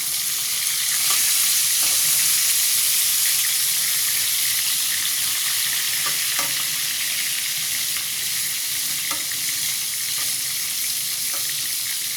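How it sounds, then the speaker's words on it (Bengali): Rui fish frying in a pan with oil, a steady close sizzle and crackle running throughout with faint clinks of a utensil, no voices. "মাছগুলো খুব ভালো করে ভাজা হয়ে গেছে।"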